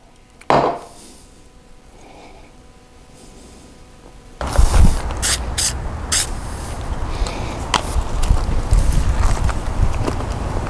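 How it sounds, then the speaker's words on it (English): Spray adhesive hissing from an aerosol can onto strips of rubber cut from a bicycle inner tube, several loud bursts after a quiet start with a single knock, then a sustained close spray. "attach them with a spray adhesive"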